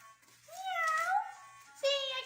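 A voice playing a cat in a Spanish children's story gives two clear, drawn-out meows, the second shorter, with no other sound around them.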